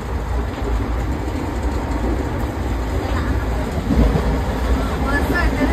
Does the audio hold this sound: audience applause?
no